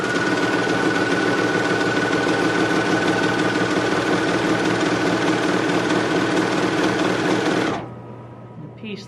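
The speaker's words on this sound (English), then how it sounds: "make sure you're meeting all the ends together, start serging" A serger sewing machine running steadily as it overlocks fabric edges, trimming a little off while it sews, loud and close with a dense mechanical whir for most of the clip before it stops abruptly, leaving near silence.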